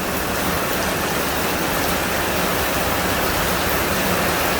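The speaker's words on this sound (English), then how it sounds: "Holy moly, it's raining." Steady heavy rain falling around a boat renovation workshop, a dense, even hiss without a break, loud and close with no voices.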